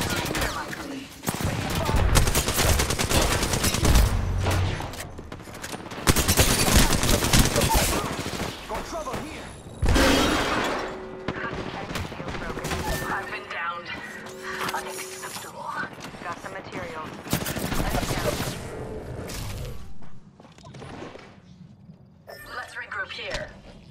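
Bursts of automatic gunfire in Apex Legends arena play as Octane, rapid repeated shots in several loud volleys with pauses between, mixed with in-game character voice lines and effects.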